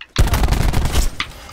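Rapid bursts of gunfire from a multiplayer shooter video game, a loud cluster of shots starting abruptly and running nearly continuously, with a brief sharper crack near the end.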